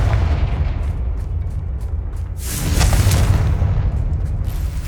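A Confringo fire spell in Hogwarts Legacy bursts with a heavy booming blast, deep rumbling low end and a crackling surge that swells around the middle, loud and continuous without speech.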